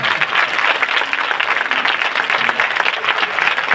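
A church congregation at a conference gives a big round of applause for Jesus, many hands clapping loudly and continuously in a full, busy wash of sound.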